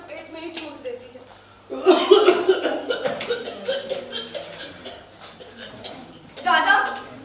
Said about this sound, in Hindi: दादा कैसे हुक्का पीकर खांसते रहते हैं।